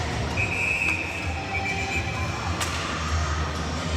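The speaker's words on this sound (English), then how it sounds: "Quick whistle" A referee's whistle at a high school ice hockey game gives one short shrill blast over the steady rumble of the rink and crowd.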